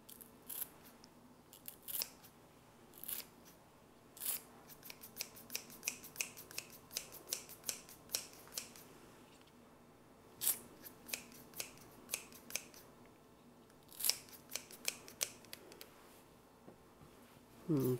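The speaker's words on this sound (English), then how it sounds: "Special scissors. Aren't they cool?" Special kitchen scissors snip through green onions in a series of crisp, close clicks, some bunched in quick runs and others spaced apart, over a quiet room.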